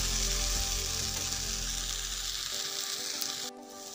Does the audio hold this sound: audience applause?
no